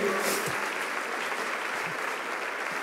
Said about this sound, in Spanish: Le damos un aplauso a los jóvenes que...